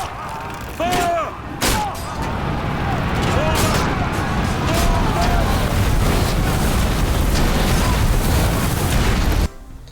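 Catapult and siege weapons firing during battle in the video game Ryse: Son of Rome, a dense barrage of booming impacts and clashing noise that continues loudly for most of the stretch, with voices mixed in, then cuts off.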